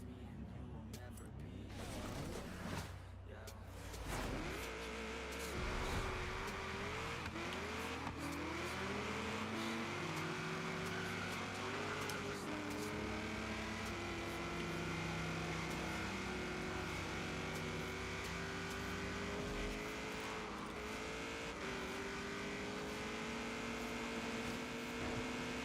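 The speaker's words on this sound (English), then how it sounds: "When you make the game's audio glitch out because your car is on the rev limiter for so long." A Forza game car engine buzzes at a high, steady pitch held against the rev limiter, droning on and on with slight stuttering audio glitches.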